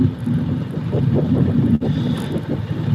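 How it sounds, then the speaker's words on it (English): Strong outdoor wind buffeting the microphone with a loud, rumbling roar that swells and dips and briefly cuts out partway through, without speech. "That wind was extremely strong."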